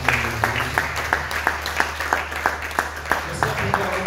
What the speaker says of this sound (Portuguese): aplausos então para o Senhor Jesus